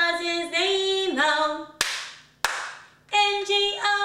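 Two crisp hand claps land in a pause between bright sung notes of the children's song Bingo, each a single sharp slap close to the listener.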